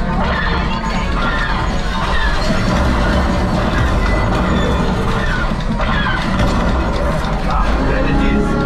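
A train in the game Millennium Falcon: Smugglers Run rumbles loudly and continuously, with clanking metal and crashing impacts layered over the dense roar, with no talking.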